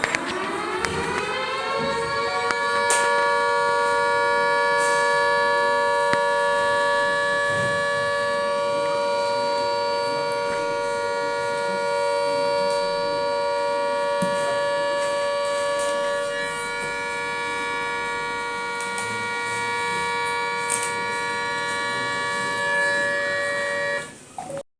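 A civil defense siren in India wails loudly and steadily for a long stretch as a red-signal warning, its tone holding flat before cutting off at the end.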